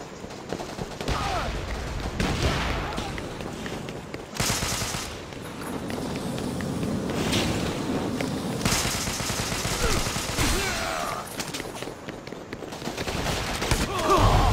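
Dense, continuous gunfire and bursts of automatic weapons from the Devil's Third video game fill the clip, loud and unbroken, with a voice faintly mixed underneath.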